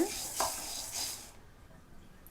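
Toor dal with asafoetida dry-frying in a pan while being stirred, brief scraping strokes over a soft sizzle that fades out after about a second, leaving near quiet.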